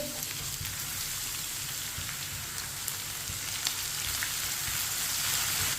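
Crushed ginger and garlic with whole cumin sizzle in a pan in a continuous soft crackle and hiss, with occasional light pops and stirring taps.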